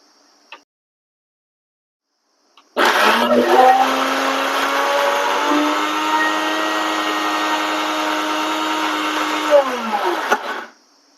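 A mixer grinder starts abruptly and grinds a chicken curry paste with coriander and a little water, running with a loud, steady high-pitched whir for about eight seconds, then spins down, with a brief click before it starts.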